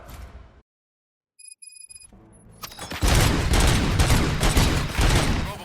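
Gunfire breaks out in the RoboCop: Rogue City video game: after a near-silent gap and a few electronic tones, a dense burst of shots and booms fills the last few seconds loudly.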